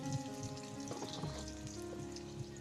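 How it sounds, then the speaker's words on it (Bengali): Potatoes frying in oil in a pan, a soft, steady sizzle running the whole time underneath faint background tones and a little clatter. "তাই জন্য আমি আলুটা ভেজে নিচ্ছি।"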